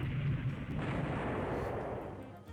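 A missile swarm strikes ships in the naval game Rule The Waves 3, heard as a dense, continuous rumble of overlapping explosions and impacts, loud and sustained with no talk.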